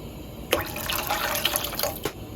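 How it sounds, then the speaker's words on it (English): A cup of water pours into a cooking pot of stock and onions in a short, close splash that gurgles for about two seconds. "And I'm gonna add 1 cup of water."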